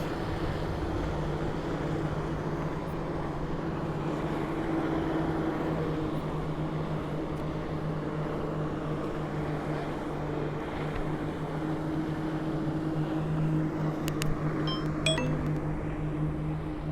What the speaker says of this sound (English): This is why everybody hates people on jet skis.